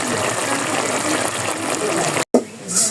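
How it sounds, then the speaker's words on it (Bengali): Tap water gushes loudly and steadily while banana flower is rinsed clean, with a brief cut near the end before the flow resumes. "কালি ধুয়ে পরিষ্কার করে নিই"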